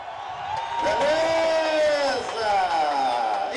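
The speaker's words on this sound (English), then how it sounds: "It enables them to get a warm round of applause as well." Football stadium crowd at a World Cup qualifier, Cape Verde against Central African Republic, roaring and cheering for substitutes, a loud continuous swell of whoops and shouts with a commentator talking over it.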